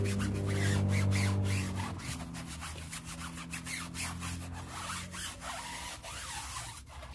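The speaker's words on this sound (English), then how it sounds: "it's a nice stiff bristle brush, so when it comes to cleaning sidewalls, it actually does a pretty good job" A stiff bristle brush scrubs a car tire sidewall during wheel detailing, giving a close, continuous rasping scrub with quick back-and-forth strokes and no talking.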